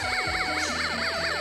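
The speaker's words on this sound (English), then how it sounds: "I don't know if that's a police siren, but it works!" Toy police siren from a Snap Circuits electronics kit, a steady electronic tone warbling up and down in regular rapid cycles, loud and close with no talking.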